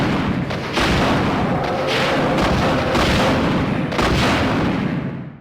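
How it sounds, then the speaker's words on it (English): In Resident Evil 2, a rocket launcher fires and detonates, heavy booming blasts that land loud and close, with a rumbling roar that holds throughout before fading out at the end. "I'm just gonna fucking kill it with a rocket launcher"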